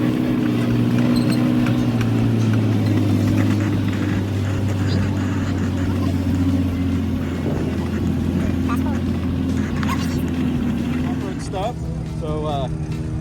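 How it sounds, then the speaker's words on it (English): Engine of a recovery vehicle locked in low range, pulling a stuck motor home free: a steady, loud low-pitched drone that holds throughout and shifts near the end, with people talking over it. "lock her down in low range and pull her right out of there"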